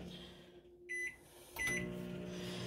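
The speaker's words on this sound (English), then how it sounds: "So I'll cook my chicken in the microwave." A microwave oven cooking chicken hums steadily at low volume, with short electronic tones partway through before the drone continues.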